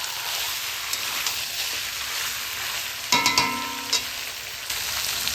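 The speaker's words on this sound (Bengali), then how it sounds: "মানে হালকা আঁচে কষে নেব।" Mutton kosha cooks in a pan on low heat with no water, keeping up a continuous close sizzle. A short cluster of metallic clinks and scrapes from stirring breaks in partway through.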